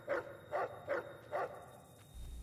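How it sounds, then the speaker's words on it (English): Four evenly spaced barks from a dog in the game Fallout: New Vegas, moderately loud and close, followed by a brief pause and a low ambient hum. "If the dog could be quiet."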